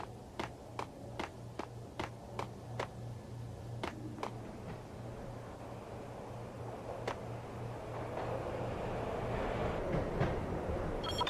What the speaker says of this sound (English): I'd have to get it back on to get the train moving.